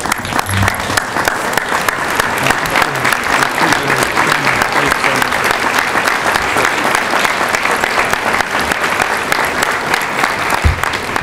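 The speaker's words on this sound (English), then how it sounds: "let's give him a great applause" An audience at a legislative honors event applauds loudly and steadily for about eleven seconds. The dense, continuous clapping fills a large room, with faint crowd murmur beneath.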